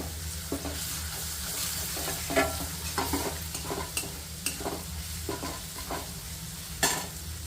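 Crushed peanuts frying in hot oil in a pan while making dudhi handvo, a steady close sizzle with scattered stirring scrapes and small pops throughout, no talking.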